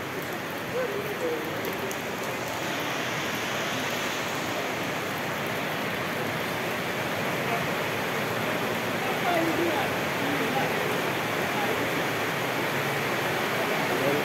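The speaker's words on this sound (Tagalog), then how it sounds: "Bumuhos na naman ang ulan eh." Heavy rain pours down during Typhoon Enteng as a steady, dense hiss that stays at a fairly even level, with faint voices murmuring beneath the downpour.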